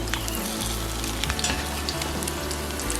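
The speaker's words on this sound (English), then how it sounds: "I'm doing this to cook the ends of the sausages." Sausage ends crisping in a hot pan give off a dense, loud, continuous sizzle and crackle, close by and uninterrupted for the whole stretch.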